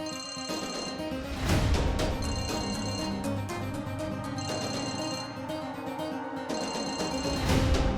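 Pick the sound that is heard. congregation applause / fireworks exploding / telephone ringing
telephone ringing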